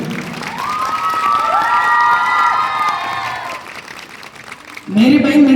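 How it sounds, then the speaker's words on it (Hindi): A crowd at a coaching class farewell cheers and whoops with clapping, rising voices in a sustained swell that dips briefly before a loud burst of shouting at the end. "उसके लिए आप एक बार जोरदार ताली बजाइए।"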